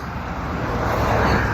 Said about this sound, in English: Sorry for the traffic, guys.